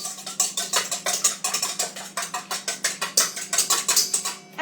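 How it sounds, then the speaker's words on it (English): Whisk attachment beating rapidly through egg whites to break up clumped cream of tartar, a fast, steady, close patter of wire strokes against the bowl for several seconds. "cream of tartar likes to clump, so just take that whisk attachment"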